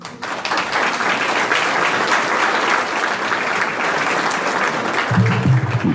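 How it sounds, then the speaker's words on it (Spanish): Loud, dense applause from a large crowd at an international seminar in Bolivia fills the whole stretch, steady and sustained, with a voice starting up briefly near the end. "lo recibimos con un fuerte aplauso"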